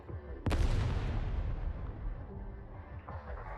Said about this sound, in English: The rising airflow of the grand explosion sends the three mercenaries into the air.